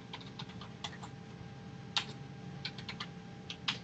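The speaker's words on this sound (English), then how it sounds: "click in the Add a Fan and Friend field and type in the username" Sparse keystrokes on a computer keyboard entering a username into a web form field, a few soft clicks scattered over steady room hum with two slightly sharper taps standing out.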